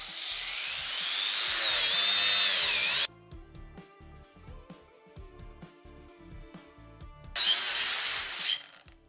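A cordless angle grinder grinds metal, throwing sparks: a loud, steady high whine under load that cuts off sharply, leaves a gap of low clicks and rattles, then rises again into a second burst of grinding.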